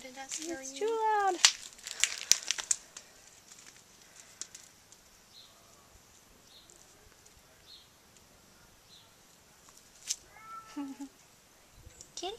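A cat meows indoors, a few short bright mews near the start and another pair near the end, with sharp knocks and clatter in between and quiet gaps of room noise.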